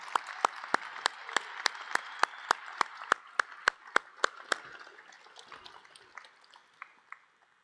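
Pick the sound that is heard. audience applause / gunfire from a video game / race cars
audience applause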